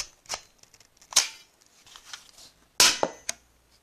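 A Chinese toy pistol firing hydrogel balls gives two sharp, snappy shots close by, spaced about a second and a half apart, amid faint handling clicks and rustles.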